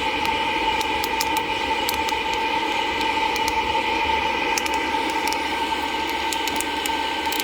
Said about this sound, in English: What you're hearing is the oil inside of the bean cracking through.